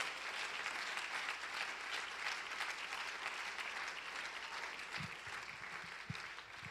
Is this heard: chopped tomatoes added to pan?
no